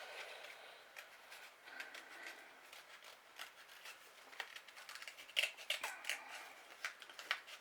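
Scissors snip and rub through card stock while a card design is cut out by hand, a quiet close run of crisp irregular cuts and paper scrapes with no voices.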